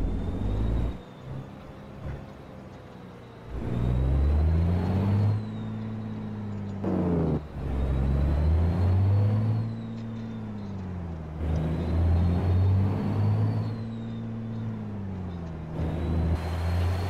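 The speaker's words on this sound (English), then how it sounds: "This truck gonna start off in any gear pretty much." A Mack B61 diesel semi truck drives along a narrow one-lane road, its deep engine rumble rising and dropping through several gear changes, loud and steady with no talking.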